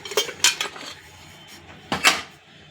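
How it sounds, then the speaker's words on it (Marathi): A metal vessel set down inside a pressure cooker while steaming kharvas, giving several sharp metallic clinks and clanks in two clusters, close and moderately loud, with no talk over them. "आता आपण हे भांड काळजीपूर्वक या प्रेशर कुकर मध्ये ठेवत आहोत"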